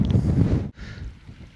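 Low, rumbling wind buffeting the microphone on open moorland at Dartmoor, loud at first, dropping briefly, then continuing more softly, with no voices.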